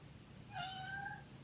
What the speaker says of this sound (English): And the cat has to make an appearance, of course.